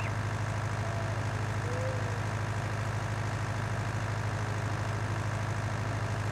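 Tractor engine in Farming Simulator 19 running at a steady low drone, constant and even throughout with no change in pace.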